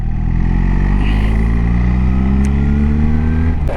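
A 2025 BMW R1300GS Adventure motorcycle accelerates hard in third gear, its loud close engine note rising steadily in pitch over several seconds before a quick-shifter gear change cuts in near the end.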